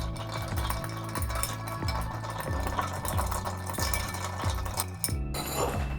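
A Manhattan cocktail with Dolin Rouge vermouth is stirred with ice in a mixing glass, a steady rhythmic clinking and swirling that keeps going for several seconds, close but soft, with no one speaking.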